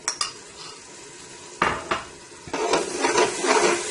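Yogurt goes into a pot of simmering mutton paya: a few sharp spoon clinks against the pot, then a steady wash of scraping and sizzling as it is stirred in.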